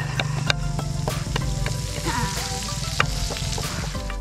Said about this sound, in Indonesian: Masukkan santan kelapa ini ke dalam wajan yang berisi bumbu merah